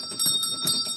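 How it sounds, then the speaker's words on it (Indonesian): A bell rings out in a mansion as a signal summoning a housemaid, with bright sustained metallic tones in a few pulsing strikes, fairly close and clear with no talk over it. "Dengan tanda lonceng berbunyi"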